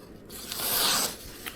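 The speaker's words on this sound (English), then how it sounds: "Let's cut some paper and see how out of the box sharpness is." A new IKEA FJÄLLRÖDING kitchen knife slicing through a sheet of paper, giving one short, close crisp rasping cut that swells and fades over about a second, with no talking.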